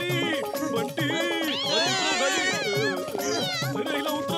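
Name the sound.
cat meowing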